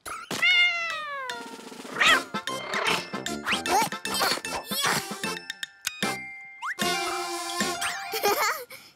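A cartoon cat meows several times in quick, bending cries, loud and close, mixed with chiming and clanging effects in a playful children's animated show.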